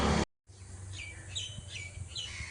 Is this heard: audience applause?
no